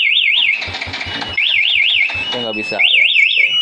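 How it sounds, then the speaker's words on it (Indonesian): An anti-theft alarm fitted to a Yamaha Jupiter motorcycle wails loudly in three bursts of a rapid warbling tone, with clicks and someone talking in the gaps. "maka alarm yang di motor dia akan bunyi keras"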